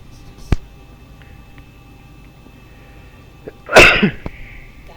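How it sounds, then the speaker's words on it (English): One loud, close sneeze bursts out after a few seconds of quiet room hum, preceded by a single sharp click. "sorry guys, I just have to sneeze"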